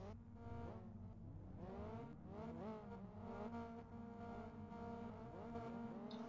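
Several race car engines rev together on the starting grid in the rFactor racing game, loud overlapping rising and falling whines that pulse steadily for several seconds with no voices.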